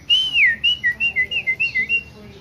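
A chopi blackbird in an aviary gives a clear, loud whistled call: a rising-falling opening note followed by a rapid series of about eight even, rhythmic whistled chirps, close and alone.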